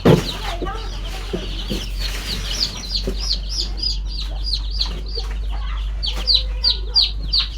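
Native desi hens and young chicks in a brooding pen, repeated high chirps and soft clucks coming close and clear over a constant low hum, with occasional rustling and wing flutters.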